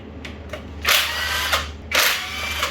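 A power tool spins out 10mm bolts from the crankshaft sensor plate of a 2.0 HDI diesel engine during a teardown, with short whirring bursts close by over a low steady hum.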